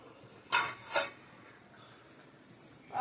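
A lid set onto a pot of simmering fish curry gives two quick metallic clinks close by, then quiet, with a faint knock at the end.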